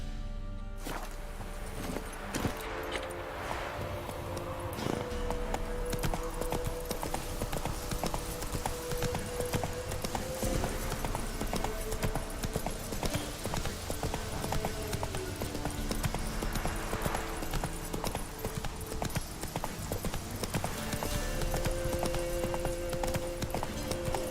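A horse's hooves in The Witcher 3 game clip-clop in a steady, brisk rhythm for the whole stretch, close and even, over a sustained tonal background.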